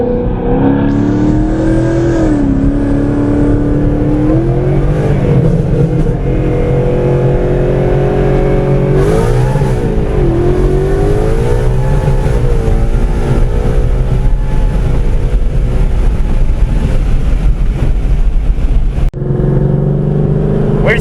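A 2015 twin-turbo supercharged Mustang GT accelerates hard. The engine roar is loud and close, its pitch climbing in repeated sweeps through the gears, with no voices.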